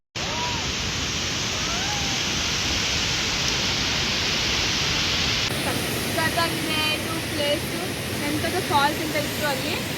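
Muregar waterfall, running with low water, sends out a loud, steady roar of rushing water that fills the whole stretch, with faint voices appearing in the later part.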